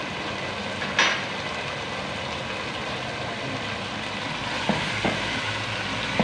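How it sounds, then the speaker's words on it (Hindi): Chicken browning with chilli powder, turmeric, crushed black pepper and mixed spices in a pan for a chicken and pea curry, a steady broadband sizzle throughout with a few brief clinks and scrapes, no talking. "5 से 10 मिनट के लिए भुनाई कर लेंगे मसालों के साथ चिकन की।"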